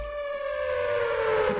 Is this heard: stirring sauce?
no